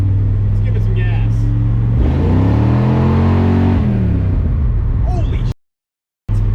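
Chevy S10 pickup with a rebuilt 400ci small-block V8 and five-speed revving loudly up close, the engine tone rising and falling through a strong rev before cutting out abruptly.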